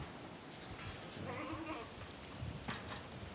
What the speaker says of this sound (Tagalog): Pinakita ko lang sa inyo yung aming mga alagang kambing